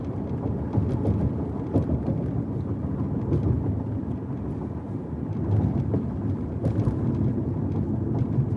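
Thunder rolls through a rainstorm as a continuous, heavy low rumble that swells and fades without a break, loud and close, with no voices.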